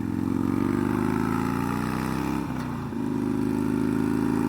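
Loud, close engine note of a 2019 Harley-Davidson Roadster V-twin motorcycle, revving steadily with a brief dip in throttle around the middle before climbing again.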